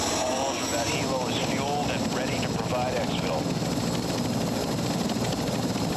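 A heavy chopper helicopter in the shooter game Call of Duty DMZ whirs steadily with constant rotor and engine drone, while several people talk over it throughout.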